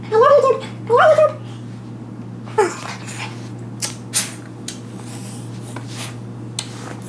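A dog whimpers in two short, high, whiny bursts at the start. Scattered soft rustles and taps follow, and someone talks quietly nearby.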